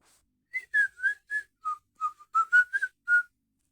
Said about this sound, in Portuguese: Tentar assobiar a melodia do desenho.